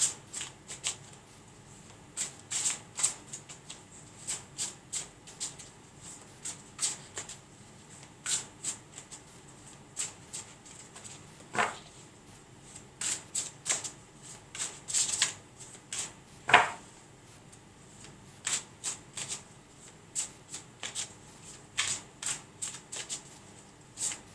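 A deck of tarot cards is shuffled close by in soft repeated riffling bursts with short pauses, faint and continuous, with no voices.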